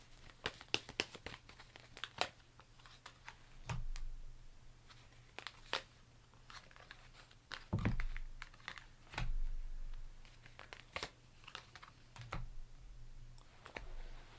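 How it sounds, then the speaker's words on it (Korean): Tarot cards are drawn and shuffled close by, quiet crisp card snaps and papery rustles repeating irregularly with a few soft thumps on a table, with no talking. "일단 추가 카드 제가 좀 더 뽑아보도록 하겠습니다"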